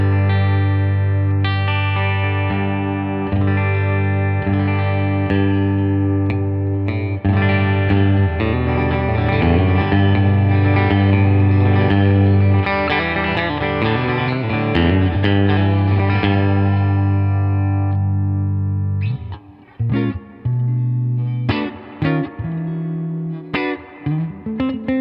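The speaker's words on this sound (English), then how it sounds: "let's just take a look through the clean here and I'll just run through some positions for you" A Squier Paranormal Nashville Stratocaster electric guitar on a clean tone, strummed chords and picked lines ringing out continuously as the pickup positions are switched, close and alone with some reverb.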